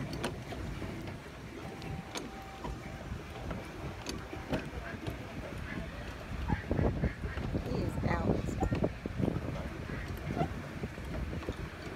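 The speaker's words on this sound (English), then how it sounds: "little nasty ducks" Ducks quack and honk in a busy outdoor scene, with splashing and a steady background hum; voices and laughter mix in partway through.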